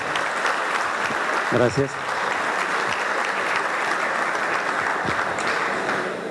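An audience applauds to welcome a priest at a formal presentation, a steady, dense clapping that fills the room throughout, with one brief spoken word near the middle.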